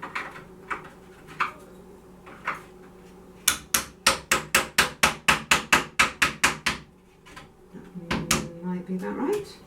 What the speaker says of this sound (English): I've got a small hammer.